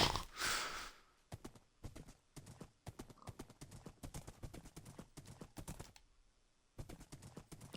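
Rapid hoofbeats of a horse galloping in a video game, a steady run of sharp clip-clops that starts after a brief burst of noise, pauses briefly near the end, then resumes.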